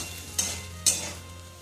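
Egg bhujia cooks in a pan: two brief scraping stirs stand out over a faint, low frying hiss, quiet and close, with nothing else around.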